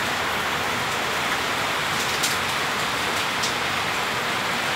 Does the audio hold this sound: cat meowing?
no